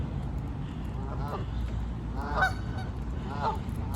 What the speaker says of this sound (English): We have lots and lots of Canada geese around in our area.